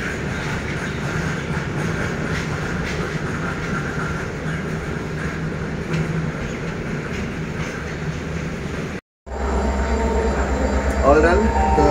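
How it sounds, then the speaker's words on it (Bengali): A train pulls in at a station platform during Saraswati Puja, with a steady rumbling rolling-stock roar and clatter throughout, a brief cut, then quieter platform ambience with a faint squeal near the end; people talk over it. "আর ট্রেনটা ঢুকেও গেছে।"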